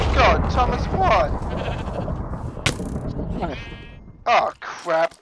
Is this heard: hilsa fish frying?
no